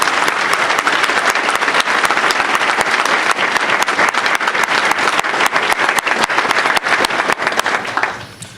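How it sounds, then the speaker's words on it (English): A crowd applauds graduates of a law enforcement academy class at their graduation ceremony, with dense, sustained clapping from many hands that fills the room and then fades out near the end. "Let's give them a round of applause."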